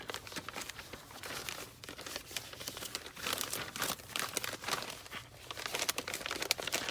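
Plastic shipping bag crinkling and rustling as folded Levi's jeans are packed into it, irregular bursts of crackling close up, coming and going in quick handfuls.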